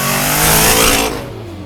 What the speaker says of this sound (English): you can hear it when you play into the throttle